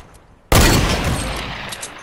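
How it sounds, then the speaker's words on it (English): Gunfire in Fortnite: a sudden loud burst of shots erupts after a quiet moment, then rings out and slowly decays over a rumbling tail. "someone was shooting at me"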